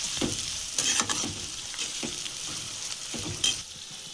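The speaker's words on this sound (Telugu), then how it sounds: "ఇదైతే బాగా ఫ్రై చేసుకుందాం." Onions and green chillies fry in a pan for a brinjal curry, a steady close sizzle broken by several sharp scrapes and clinks of a spoon stirring against the metal.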